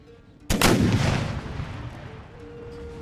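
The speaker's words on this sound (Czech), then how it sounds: "Dobrý, ještě jeden výstřel dáme." A single loud cannon shot booms in the video game Empire: Total War, a sharp blast with a long rumbling decay that fades under a faint background tone.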